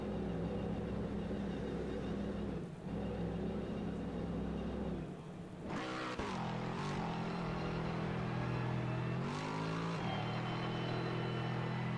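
Race car engine in Assetto Corsa Competizione during a 12-hour endurance race on the Nordschleife, droning steadily with repeated rising revs and brief bouncing bursts against the rev limiter, loud and close throughout.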